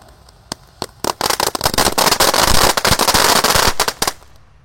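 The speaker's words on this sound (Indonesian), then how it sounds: "Kita menyalakan banyak sekali mercon dan petasan." A dense string of firecrackers bursts loudly in a rice field in the morning: a few scattered pops first, then a rapid, continuous crackling barrage that stops abruptly.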